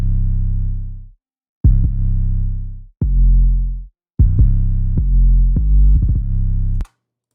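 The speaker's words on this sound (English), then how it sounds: "So this is the original 808 that I had." Deep booming bass drum hits from an original Roland TR-808, several long sustained tones with gaps between, then a faster cluster of punchy notes, loud and alone.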